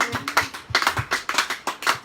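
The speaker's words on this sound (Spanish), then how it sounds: "Vamos, démosle ese aplauso." A church congregation applauds in an uneven patter of hand claps, moderately loud and close, mixed with voices speaking over it.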